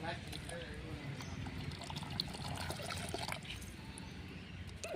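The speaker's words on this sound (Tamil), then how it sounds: "நெக்ஸ்ட்டு தேங்காய் பால் ஊற்றுங்க" Coconut milk is poured into a pot of fenugreek rice porridge, a soft continuous liquid trickle and pour heard steadily under background noise while someone talks.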